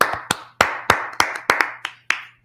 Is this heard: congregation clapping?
yes